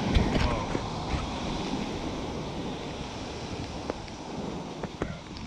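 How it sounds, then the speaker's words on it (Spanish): Ocean waves break steadily on a beach during a shoreline treasure hunt, a loud, continuous rushing surf with wind buffeting the microphone throughout. "Big old wave almost got me."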